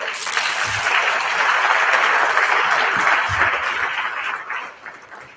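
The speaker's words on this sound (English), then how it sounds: "A round of applause for our Minister." A standing audience at a public works and infrastructure summit applauds the Minister of Infrastructure, loud sustained clapping from a large crowd that fills several seconds before tapering off near the end.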